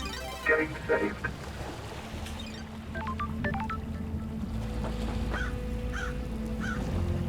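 Crow caws ring out in the video game Paradise Killer, a few short harsh calls repeated over a low ambient drone, following a brief electronic tone sequence.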